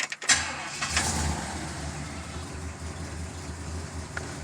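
A Yamaha Virago motorcycle engine idles steadily after a brief catch at the start, a low continuous rumble with a faint flicker in its speed, alone and fairly close.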